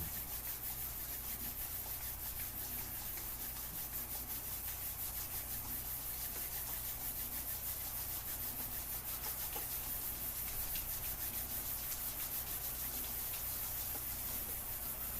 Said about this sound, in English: begin by rubbing the hands together until they're warm